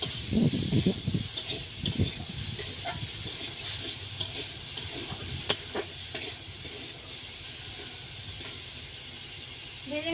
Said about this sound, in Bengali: ভালো করে একটু ভেজে নেবো লাল করে